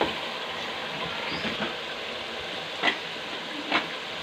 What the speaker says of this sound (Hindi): अब इसके अंदर बाकी मसाला जहाँ सारे हम अंदर ऐड करेंगे और अच्छे से फ्राई कर लेंगे।